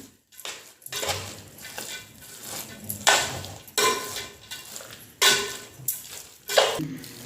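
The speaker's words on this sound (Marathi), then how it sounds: "मगज बी काजू बेदाणे बुंदीमध्ये मिक्स करत आहे. आता हलवून घेऊया." Fried boondi being stirred with melon seeds, cashews and raisins in a pan, a run of distinct scraping strokes and clinks, roughly one per second, close and fairly quiet.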